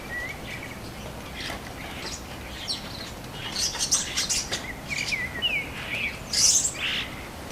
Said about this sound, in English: Just when I think that's a lot of starlings, then more arrive.